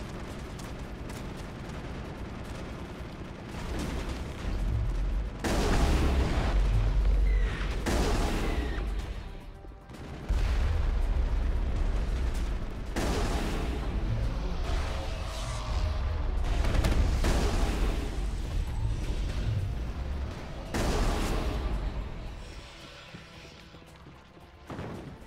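Heavy artillery gun firing in the video game Mass Effect: deep booming blasts and crashing impacts roll out one after another over roughly 25 seconds, loud and rumbling, with no speech.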